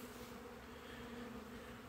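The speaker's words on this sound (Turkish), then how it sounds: "Kemal Paşa'nın şerbetini nasıl arı yiyor? Yiyor gördüğünüz gibi." Honeybees feed on a sweet syrup dessert left in the bottom of a hive container, giving a steady, low insect buzz that hums continuously and fairly faintly throughout, with no talking.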